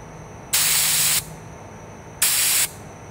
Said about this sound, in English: I'm gonna do the spray to show the focal point